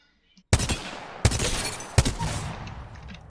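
Three sharp, loud G7 Scout rifle shots in Apex Legends, spaced evenly about three-quarters of a second apart, each cracking out with a short ringing tail.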